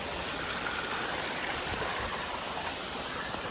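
A stream swollen after rain along the Appalachian Trail rushes continuously, a steady broad wash of water heard close and moderately loud with no voices.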